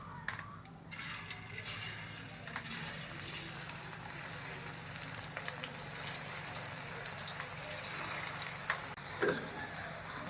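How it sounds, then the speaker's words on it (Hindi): Pumpkin pakoras dropped into hot oil in a kadai: a brief quiet start gives way to steady, dense bubbling and sizzling from deep-frying, with small pops and crackles scattered across the clip. "अब पकौड़े बनाने के लिए हमने कढ़ाई में ऑयल डालकर इसको गर्म कर लिया है। अब इसमें पकौड़े डाल लेंगे।"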